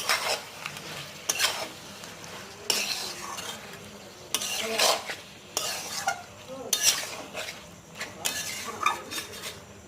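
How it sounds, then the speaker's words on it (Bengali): Sliced tomatoes being stirred into mutton curry in a pan, a series of distinct spoon scrapes and clanks against metal over a soft sizzle, close and fairly loud without speech. "টমেটোটাকে ভালো করে এর সঙ্গে মিশিয়ে নিচ্ছি।"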